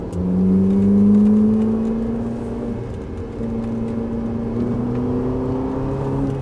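A Ferrari 458 Italia engine drones and rises in pitch as it accelerates on a race track, heard from inside, steady and fairly loud with no talking.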